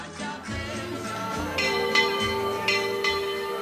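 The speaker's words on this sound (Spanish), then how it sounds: "Voltean las campanas de la ermita de San Vicent Ferrer" Hermitage church bells of San Vicent Ferrer in Agullent ring in overlapping, irregular strokes, bright metallic tones layered with a low hum and background noise.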